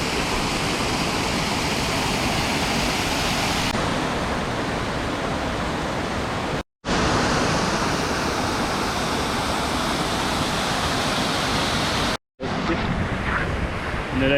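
Ocean waves on a small beach with good surfing swell make a steady, loud broadband wash that fills the scene, cut by two brief dropouts, with no one speaking.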